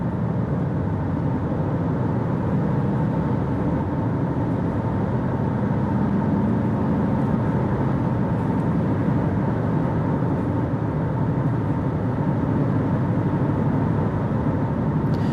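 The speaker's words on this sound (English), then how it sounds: "that's why you hear that revving and then holding" A 2023 Honda HR-V EX-L with a CVT drones steadily from inside the cabin during a test drive, a constant engine hum with road noise that holds at one level rather than climbing, with no talking.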